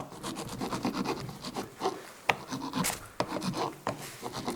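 Hard metal file rasping against a soft LED part, a quick run of rough scraping strokes at close range with a few brief knocks, no talking.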